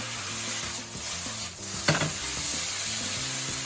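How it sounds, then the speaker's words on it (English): Chicken and vegetables stir-fried in a hot pan give a steady, close sizzle with scraping stirs and a brief clatter near the middle, and no one speaks. "Back to my pan. Give them a good old stir around."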